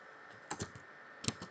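A few soft keystrokes on a computer keyboard while typing a short command for an FTP server setup, faint and close, in two small clusters of clicks with a quiet pause between them.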